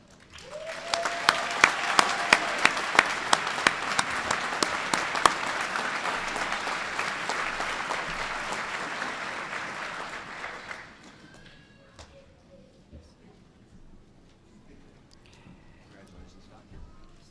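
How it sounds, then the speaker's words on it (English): Graduation ceremony audience applauding PhD graduates, a broad wash of clapping with some sharp cheers and whistles, steady for about ten seconds before fading out into quiet room tone. "let's give a round of applause for all of our PhD"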